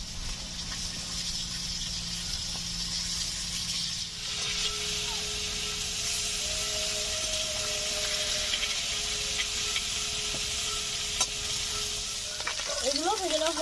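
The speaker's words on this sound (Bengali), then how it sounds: "মাছগুলো এখন উল্টে ভেজে নিচ্ছি।" Dhela fish frying in oil in a village-style kitchen and being turned over, a steady close sizzle that runs throughout, joined midway by a faint sustained tonal hum.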